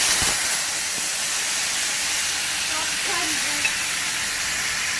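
Ginger paste and cumin powder go into hot oil for a Bengali shukto, giving a steady, loud broadband sizzle and hiss that runs the whole time with no talking over it.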